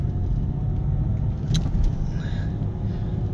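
Car driving with the engine running, shifted into second gear while moving; a steady loud road and engine rumble fills the whole stretch with a brief rattle midway and no talk.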